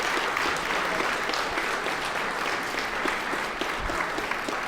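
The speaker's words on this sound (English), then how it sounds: "Could you give Chief Summers a round of applause for his presentation?" An audience at a public policy forum gives a round of applause for a police chief's presentation, a dense, sustained clapping that stays loud and even throughout with no speech over it.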